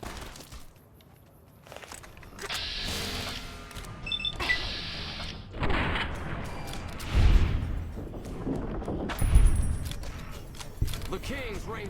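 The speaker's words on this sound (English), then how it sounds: "I love coming into Fraser just to hear like all the random gunshots." Scattered gunshots from the Fallout: New Vegas video game, a few sharp cracks and booms rising over busy in-game ambience and voices, with the heaviest shots around the middle and later part.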